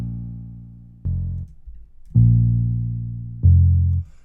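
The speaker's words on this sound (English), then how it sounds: "Without the effects, it would sound like this." Dry fingered bass sound-font notes in a pluggnb-style beat, played without effects: three or four deep, sustained notes with a soft decay and short gaps between them, heard alone.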